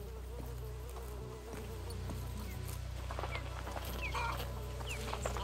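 Chickens cluck in A Plague Tale: Requiem, soft and scattered over a steady buzz of insects and flies. A low game ambience hums underneath.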